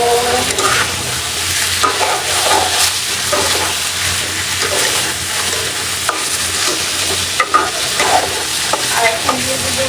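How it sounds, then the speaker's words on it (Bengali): Catla fish pieces and potatoes sauté loudly in a pan, with a dense continuous sizzle broken by repeated scraping stirs and occasional sharp clinks of the spatula. "তারপরে মাছটা দিয়ে আলু দিয়ে কষাবো।"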